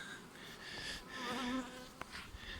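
Honeybees buzzing at an open beehive, a steady dense drone of many insects close by, with individual bees' pitches weaving through the hum for a few seconds and a couple of faint knocks.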